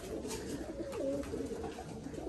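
Pigeons in a loft give a soft, rolling coo, faint and near, with one rising and falling call in the middle over quiet background noise.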